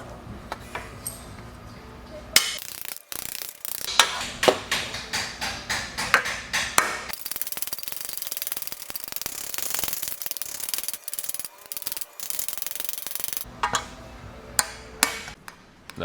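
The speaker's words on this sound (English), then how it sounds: "let me get a chisel and kind of redefine that line across there again, and then I'll just keep going back and forth with it" Chisel struck with a hammer to shape the edge of a metal car A-pillar over wood, sharp metallic taps arriving in irregular clusters, close and fairly loud, with a steady hum behind them.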